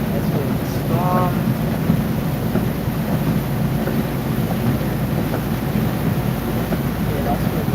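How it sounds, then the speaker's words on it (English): Steady heavy rain and wind roar across a moving vehicle during a storm near Tallahassee, a dense unbroken wash of noise that continues the whole time without any talk. "The closer I get so far, the more rain."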